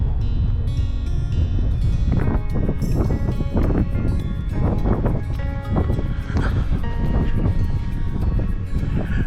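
Strong wind buffets the microphone in loud, rumbling gusts at a frozen lake in Banff, Canada, with faint scattered thuds and rustling underneath.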